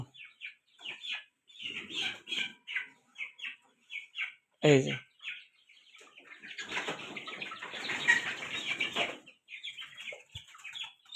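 Chickens clucking and squawking in bursts while being caught for Ranikhet disease vaccination, with a loud flurry of flapping and squawks in the middle, close by, a few spoken words at the start.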